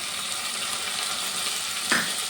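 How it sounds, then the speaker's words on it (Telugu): Ginger garlic paste and mint leaves frying in hot ghee for a pulao, a steady loud close sizzle with one brief sharper flare near the end and no talk. "బాగా వేగనివ్వాలి నెయ్యిలోని"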